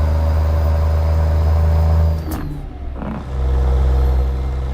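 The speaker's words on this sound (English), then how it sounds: "Engine today is the 3176A 300 horsepower Caterpillar motor" A Caterpillar 3176A 300 hp truck engine in American Truck Simulator drones steadily and loud, briefly dropping away during a gear change before pulling again under load.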